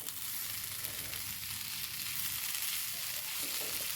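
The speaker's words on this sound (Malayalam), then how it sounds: "നല്ല നാടൻ കരിവേപ്പിലയാണ് അതും കൂടെ ചേർത്ത് കൊടുക്കുന്നുണ്ട് ഒന്ന് ഇളക്കി കൊടുക്കാം" Curry leaves and a ridge gourd and prawn stir-fry sizzling steadily in a pan as they are stirred, a constant close frying hiss with soft scraping, no talk.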